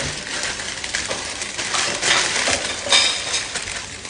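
Aluminium foil being crinkled and pressed over a leg of lamb for slow oven cooking, bursts of crisp metallic rustling and crackling close up, with irregular louder crumples and no talk.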